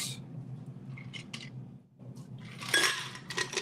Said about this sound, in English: Pour that over the ice.